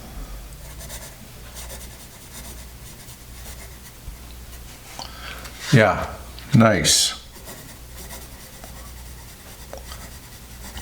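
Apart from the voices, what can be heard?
writing with Musgrave Single Barrel 106 pencil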